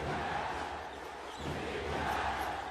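A home crowd in the Philippines roars during a FIBA World Cup 2019 Asian qualifier basketball game against Japan, a steady dense wash of cheering that swells slightly toward the end.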